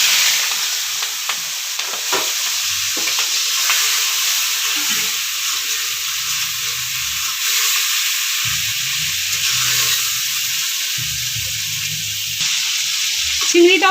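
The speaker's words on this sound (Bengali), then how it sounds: "চিংড়িটাও লবণ হলুদ দিয়ে ভাজা হয়ে গেছে" Prawns seasoned with salt and turmeric fry in hot oil in a pan, with a loud continuous sizzle and intermittent scraping and stirring clatter throughout, with no voices.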